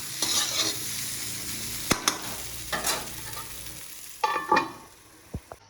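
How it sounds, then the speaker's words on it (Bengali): Potatoes and onions fry in a pan, a steady broadband sizzle running throughout with several sharp scraping stir strokes and clinks of a utensil against the pan; no voices. "আলু দিয়ে পেঁয়াজ দিয়ে ভাজা হচ্ছে"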